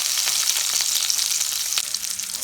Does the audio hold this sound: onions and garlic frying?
yes